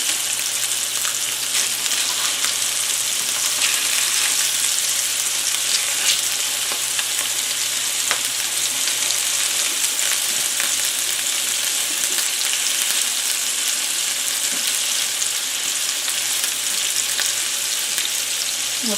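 Salisbury steak patties sizzle steadily in a hot pan, a dense, continuous crackling fry with small pops throughout, close and loud with no talking.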